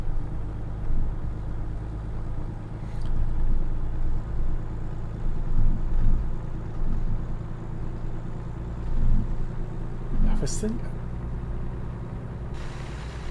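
Another truck's engine in American Truck Simulator rumbles low and steady in the background, with faint swells, while someone speaks briefly.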